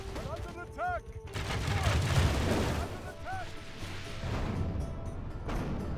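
Artillery plunging fire in the medieval strategy video game Medieval 2 Total War: a dense fusillade of distant booms and crackling shots over battle din, with a few whistling projectiles, moderately loud.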